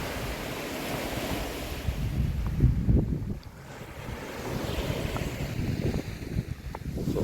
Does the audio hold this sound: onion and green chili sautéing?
no